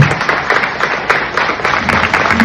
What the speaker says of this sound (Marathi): पुन्हा एकदा या पाहुण्यांसाठी एकदा जोरदार टाळ्या झाल्या पाहिजेत.